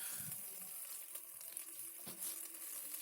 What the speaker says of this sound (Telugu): ఇప్పుడు మనం కట్ చేసిన ఉల్లిపాయలలో 1/4 ఉల్లిపాయలు వేసిన తర్వాత కొద్దిగా వేగిన తర్వాత ఒక పెద్ద టీ స్పూన్ నిండా అల్లం వెల్లుల్లి పేస్ట్ వేసుకోవాలి.